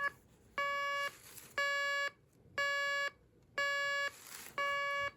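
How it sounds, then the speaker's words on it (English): Alarm of a vintage General Electric 7-4675A clock radio: a pure, steady electronic beep pulsing on and off in a regular rhythm, about half a second on and half off, moderately loud with no voices. "I think it's an unusually pure tone for an old GE clock radio"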